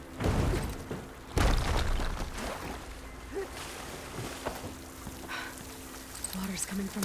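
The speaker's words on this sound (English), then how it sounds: "Water's coming from the vent." Water pours from a vent in the video game Horizon Forbidden West, a steady rushing splash under sparse game sounds, with a sharp louder burst early on and someone talking faintly.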